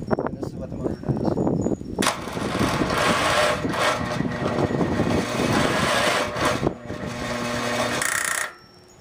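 A 389cc engine with an electric starter fault, its starter motor cranking loudly and steadily with a grinding whir for about eight seconds, then cutting off abruptly.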